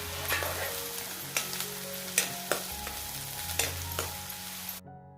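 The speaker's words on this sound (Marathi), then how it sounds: "मग टाकूया जिरे, हिरवी मिरची, बारीक चिरलेला कांदा आणि छान भाजून घेऊया।" Cumin, green chilli and finely chopped onion frying in oil over a village wood-fired stove, a steady sizzle broken by sharp scraping knocks of a spatula, close and fairly quiet, ending abruptly in silence.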